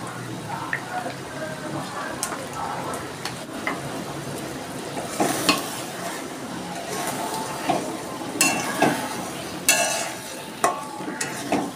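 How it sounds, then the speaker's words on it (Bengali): Mustard oil in a hot pan for a dish of shrimp with taro stolons (kochur loti), with a steady close sizzle and repeated stirring scrapes of a spatula, louder toward the end. "এবার দিচ্ছি একটু সর্ষের তেল,"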